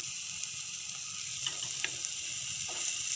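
Yogurt fried in a pan for jackfruit curry crackles with a soft, continuous sizzle, with occasional scraping clicks from a stirring spoon; no talking.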